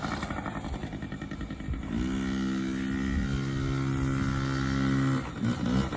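A small pit bike engine idles with a rough, uneven putter, then settles into a steady, loud drone for several seconds before sputtering and stumbling near the end as its fuel supply is cut.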